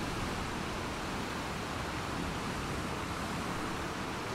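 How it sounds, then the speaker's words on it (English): Rushing white water rapids in The Last of Us Part II, a steady, dense broadband roar of churning water that holds evenly and fills the whole stretch without pause. "Nothing like a white water rapid."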